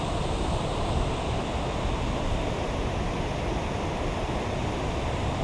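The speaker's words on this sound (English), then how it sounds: "2 feet in water in the river, but the water is very low." Shallow, low river water flowing around someone's feet, a steady close rushing and babbling wash with no break and no talk.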